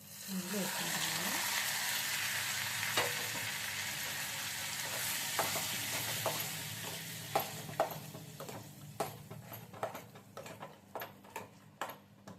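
Cashews and almonds frying in ghee for bread halwa, a steady sizzle fading over several seconds, followed by sharp spoon taps and scrapes against the pan.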